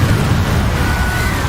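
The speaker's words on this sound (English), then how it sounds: "Incendio." Incendio fire spell in the video game Hogwarts Legacy, a loud roaring burst of flame with a deep rumble and a thin whistling tone running over it, sustained for over a second.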